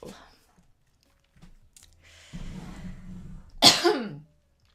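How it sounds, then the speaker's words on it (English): A single sharp, harsh cough bursts out near the end, following a stretch of quiet rustling and low shuffling noise. "Apologise for the coughing now."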